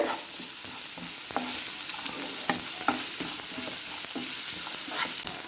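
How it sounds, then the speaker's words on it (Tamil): Onions sauté with salt in a pan, giving a steady sizzle of frying with scattered scraping clicks from the stirring utensil, close and continuous throughout. "அதே கூட கொஞ்சம் சால்ட் ஆட் பண்ணிக்கிடுவோம். ஆனியன் நல்லா வதங்கட்டு."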